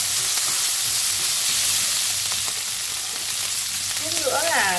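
Scallion, ginger and lemongrass stir-fry in a pan with chili sate, making a steady sizzling hiss with stirring, and a sharper crackling burst near the end.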